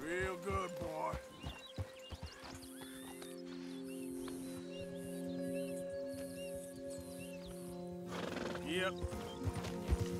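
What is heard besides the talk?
horse in Red Dead Redemption 2 video game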